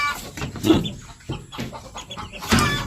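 Chickens, a street comb crossbreed among young shamo fowl, cluck and call in a few short bursts close by, with no talking.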